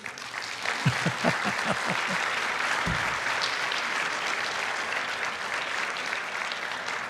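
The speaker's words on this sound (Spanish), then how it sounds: "Un aplauso por el amor de Dios." An audience at a marriage seminar applauds steadily, the clapping dense and sustained from start to finish, with a few louder claps early on.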